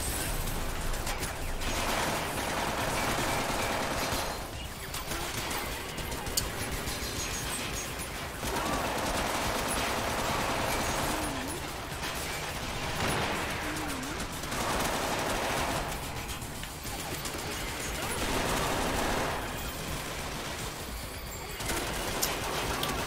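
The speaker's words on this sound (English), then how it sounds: "Who's shooting me?" Dense, continuous bursts of automatic gunfire from the shooter video game Mindjack, loud and sustained in long waves with brief lulls between volleys, amid chaotic battle noise.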